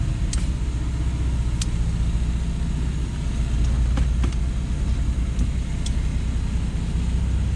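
A Volvo 960 engine running in drive after a carburetor swap, a steady low rumble close by, with a few faint metallic clicks and ticks over the constant drone.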